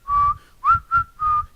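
A lone whistler carries the Kill Bill soundtrack melody, clear and close: a long sustained note, a quick upward-sliding note, a short note, then another held tone, with no talk around it.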